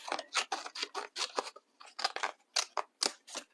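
Scissors cutting out paper letters close up, a quick series of crisp snipping crunches in an uneven rhythm with brief pauses between cuts, alone and fairly quiet.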